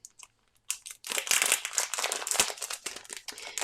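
Packaging from a scrapbook kit is being unboxed, giving close, busy crinkling and crunching of plastic wrap after a few short rustles, loud and continuous with no talking.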